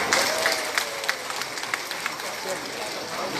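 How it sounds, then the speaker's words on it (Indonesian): Applause from an official audience greeting Indonesia's Trade Minister at an event in Banjarnegara, a dense patter of clapping at moderate distance that continues steadily with a few sharper claps, under a faint voice. "Kita kasih aplaus dulu."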